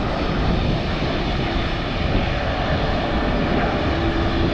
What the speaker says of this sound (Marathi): हे विमान आता येते मला वाटतं टर्किश कार्गोचं विमान आहे हे